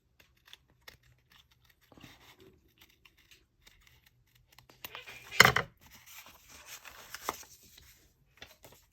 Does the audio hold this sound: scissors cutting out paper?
yes